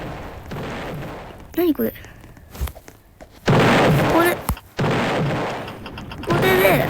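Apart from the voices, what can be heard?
cannons firing on a pirate ship in the video game Roblox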